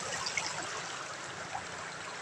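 River water flows and trickles steadily at a riverside where laundry is washed, a soft continuous gurgle close by with no voices.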